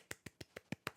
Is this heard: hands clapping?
yes